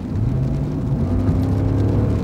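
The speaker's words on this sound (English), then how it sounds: "makes a great muted sound" A Lexus SUV's V8 engine accelerates with a steady, muted low rumble and smooth whir, close and continuous, with no talk over it.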